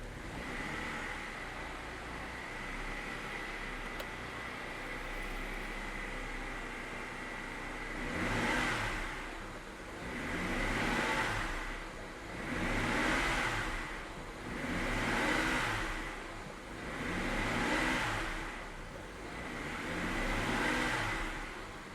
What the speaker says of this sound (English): Let's see what happens when I give it a little throttle.